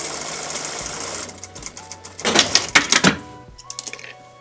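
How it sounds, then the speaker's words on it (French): A sewing machine stitches fabric for a DIY roll-up case for pencils, brushes or knitting needles: a steady hum first, then loud bursts of rapid mechanical stitching rattle before slowing to a few short runs. "Je vais venir coudre ça ici."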